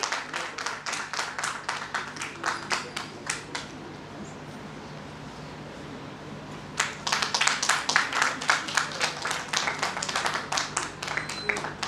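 Audience clapping at a literary festival in two bursts of dense applause, a loud opening stretch, a quiet pause, then the crowd applauding again just as strongly.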